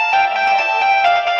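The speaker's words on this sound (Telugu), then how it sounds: "ఫోన్ వస్తుంది, చూద్దాం." A mobile phone ringtone plays loudly and close, a steady bright electronic melody that sounds throughout with no voices over it.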